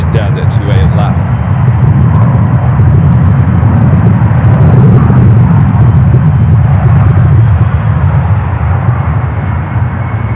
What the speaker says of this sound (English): Oh, you can hear those 777s.